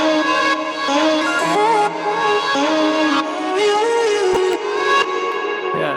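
A melody built from nine chopped, pitch-tuned vocal syllable samples runs continuously, a dense, bright, sustained line of sung-sounding tones shifting pitch in steady steps, loud and alone.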